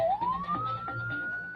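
A single police siren wails close by, its tone rising and then holding steady in one long sustained note over low engine rumble.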